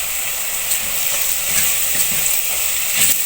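Ground red chilli, turmeric and Kashmiri chilli sizzle in hot oil in a frying pan for aloo matar curry, a loud continuous close frying hiss with faint scraping from stirring, no voices.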